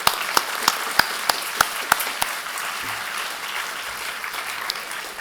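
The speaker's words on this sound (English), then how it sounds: "So yeah, big applause for Ben." Audience at a cryptography conference rump session applauding for Benedict, a steady patter of many hands with several louder individual claps up front, fading slightly toward the end.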